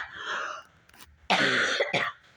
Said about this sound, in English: How did I get this far without coughing?